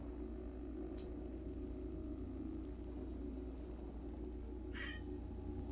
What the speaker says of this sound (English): Just stares at me purring.